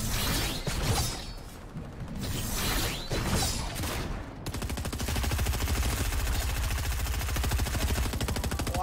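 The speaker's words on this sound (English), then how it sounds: "there's some fire going on here" Fortnite gunfire in a no-build quads match rattles in rapid, sustained automatic bursts. Earlier shots sound more scattered amid whooshing game noise, then give way to a dense, steady stream of fire.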